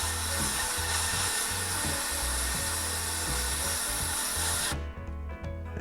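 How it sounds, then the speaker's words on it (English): A media blaster firing aluminium oxide strips paint from a Dinky DH Comet 1 model: a loud, steady, close hiss over a low pulsing hum that cuts off abruptly near the end. "for this model I decided to get the media blaster out"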